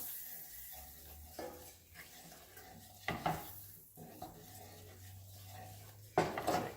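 Flour and fat are stirred into a roux in a pan, soft scraping strokes and quiet sizzling with a few sharper utensil clinks against the metal, close and fairly low in level.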